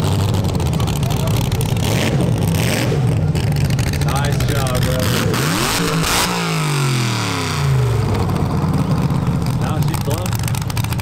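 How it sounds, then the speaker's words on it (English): LS-swapped, nitrous-fed Chevy S10 truck doing a burnout, its engine roaring loud and steady with revving sweeps until the tires blow, under excited talk from onlookers. "That's that's pretty much a textbook burnout. Blew the tires, didn't hit the walls"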